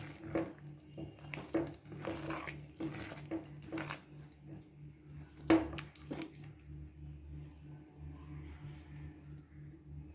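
Boiled hot water is poured into thick nombu kanji rice porridge, making a splashing, gurgling pour with a few clinks of a pot or utensil, then quieter settling.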